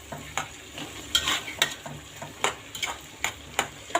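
Green fava beans and onion being stirred in a pot, a spoon scraping in irregular strokes over a soft, steady sizzle, close and moderately loud with no talking.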